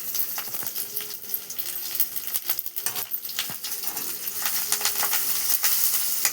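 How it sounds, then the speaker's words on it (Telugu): Mustard seeds and seasoning crackle and pop in hot oil for a beetroot curry, a steady close sizzle scattered with sharp little bursts throughout. "ఇవి కూడా చిటపట్లాడతాయి"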